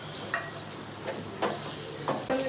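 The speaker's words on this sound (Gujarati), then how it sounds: "અમે દાળ બાટીનો વઘાર કરીએ છીએ" Hot oil tempering for Rajasthani dal baati sizzles in a steady, close hiss, with a few louder bursts of sizzle and stirring.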